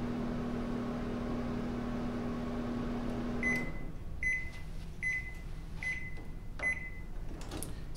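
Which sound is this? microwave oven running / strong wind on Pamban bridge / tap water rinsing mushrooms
microwave oven running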